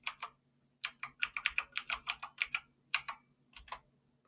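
Someone typing a password on a computer keyboard, with quick close key clicks in uneven bursts and short pauses between them, nothing else heard.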